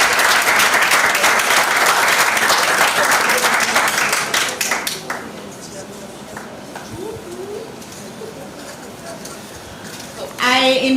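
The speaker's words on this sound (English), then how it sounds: "can we give a final round of applause for all of our debaters this evening?" Audience applause for high school debaters fills an evening competition hall, loud and dense at first, then thinning into scattered claps that fade under room noise before a brief burst returns at the end.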